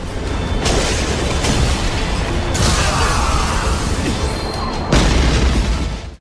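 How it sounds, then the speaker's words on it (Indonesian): An animated ice explosion technique from Soul Land 2 plays as a loud, sustained roaring blast, with sharper bursts of impact breaking through the dense rumble several times. "melepaskan teknik ledakan es."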